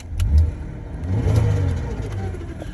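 A car engine runs after a jump start from a NOCO GBX55 booster, a rough mid-pitched idle with a brief rev swell near the start and again mid-clip, close and fairly loud throughout.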